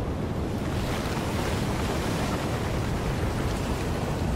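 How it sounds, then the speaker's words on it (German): Strong wind rushes continuously through a Battlefield 4 game scene, a loud, dense roar with gusty fluctuations that fills the whole stretch without any voices. "der scheiß Wind ist so laut"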